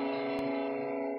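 A metal guitar plays a harmony in fourth and second intervals over a harmonic minor feel, one sustained, distorted, ringing chord held close and loud for about a second, with no talking.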